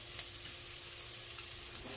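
Garlic frying in oil in a pan, a steady close sizzle with faint crackles and stirring, no voices, for a dish of black bean ox tripe with beef.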